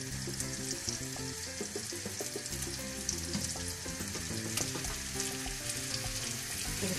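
Figs caramelize in a hot pan with a steady, busy sizzle and crackle, close and even throughout, with no talking.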